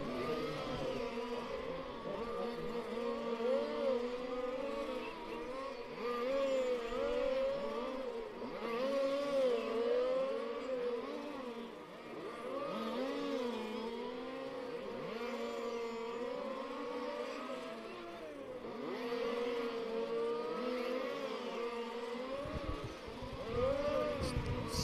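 Race cars lap a circuit during a 15-minute final at the Race Car Series finale in Bad Breisig, a continuous whining engine drone that swells and fades as cars pass. The sound stays moderately distant, with no voices.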